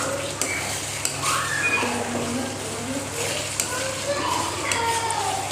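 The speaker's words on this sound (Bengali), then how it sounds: "এবার ভালো করে নাড়িয়ে নিচ্ছি।" A crab curry spice paste with tomato is stirred in a pan, giving scraping and clinking of utensil against the pan and a faint sizzle, heard under a voice and children in the background.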